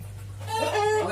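Pelung chickens in a cramped urban coop give a brief, nearby crow with clucking over a low steady hum.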